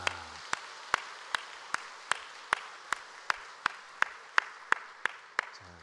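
A church congregation claps during a Sunday worship service in a steady, even rhythm, with about fourteen sharp, evenly spaced claps landing roughly every half second at moderate loudness.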